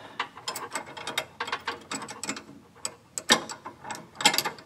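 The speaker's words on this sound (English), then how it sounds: "That 30-60 wrench is going to work pretty good." A 3/8 wrench ratchets on a bypass filter fitting on a Dodge Ram 2500, with close, quiet, irregular clicking bursts of pawl clicks and short pauses between strokes.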